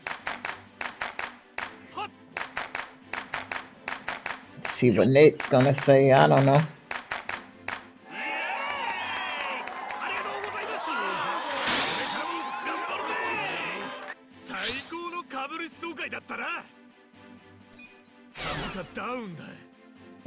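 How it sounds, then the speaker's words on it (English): Crowd clapping and cheering from Yakuza: Like a Dragon, a burst of applause swelling in the middle with game music, with people talking over the start and end. "Here they go with the game with the clapping."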